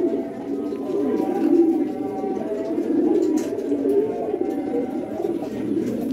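Pigeons coo close by in a low, continuous, rolling murmur that swells and fades in waves, with no other clear sounds over it.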